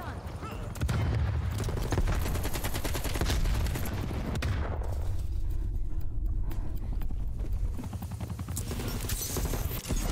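Continuous gunfire and explosions in Call of Duty Cold War, dense overlapping shots and booms running throughout, with radio-style voices talking over the battle.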